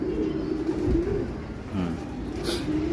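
Low, soft cooing of a racing pigeon repeats close by, a steady throaty murmur with a faint brief chirp near the end.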